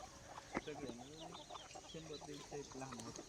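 Free-range hens and a rooster on a village dung heap cluck in short, repeated bursts close by, with a low background murmur throughout.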